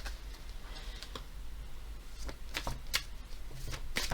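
Oracle and astrology cards are shuffled by hand for a tarot reading, producing quick riffling flutters and sharp card snaps in short bursts, close and crisp with no talking.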